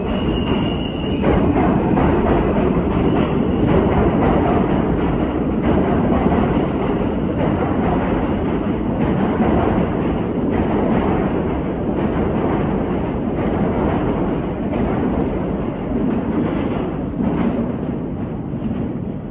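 A New York subway E train runs loud and continuous toward Manhattan near Queens Plaza, with a steady roar, rattling wheels and a high whine fading in the first seconds.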